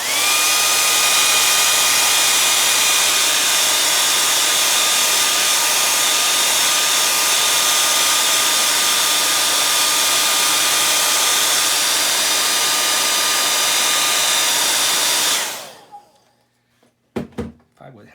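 A hair dryer roars steadily and loud for about fifteen seconds, blowing on a watercolor seascape painting, then cuts off abruptly, leaving a few soft knocks and thuds.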